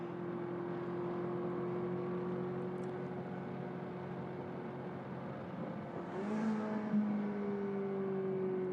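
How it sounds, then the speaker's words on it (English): A safety car circles the Mugello race circuit during a Trofeo Pirelli race, its engine a steady, faint drone that swells briefly as it passes, then settles back. "So there is the safety car."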